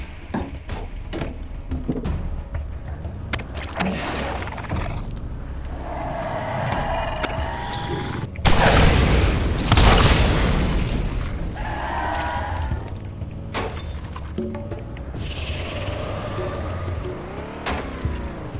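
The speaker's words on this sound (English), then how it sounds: "Rocket launcher made by Dahl" A Dahl-made rocket launcher fires in Borderlands, a loud broadband blast about halfway through that rolls on for a second or two over continuous in-game engine and vehicle noise and scattered clatter.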